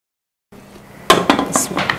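A lid goes onto a cooking pot of beef biryani: a quiet scrape follows a moment of silence, then several sharp metallic clanks and rattles close by.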